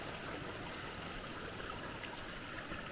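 Steady broadband rush of rainwater flowing and trickling down a small erosion creek past gabions, continuous and fairly close, with no voices.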